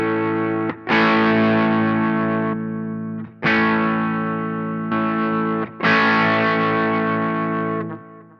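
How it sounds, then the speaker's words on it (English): An electric guitar run through a Boss GT-1 with overdrive switched on rings out in three loud, distorted strummed chords. Each chord sustains and slowly decays before the next strum, with no voice over them. "if I strum a chord and I activate the overdrive, you'll probably hear an increase in volume"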